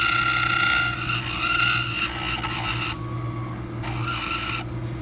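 A rotary tool grinds a denture reline with a steady high whine. It rasps and scrapes in passes over a constant motor hum, heard close up with no talk.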